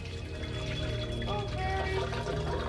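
Water pours into a helmet worn on someone's head, a continuous, fairly faint splashing gush with rising gurgles toward the end and no speech.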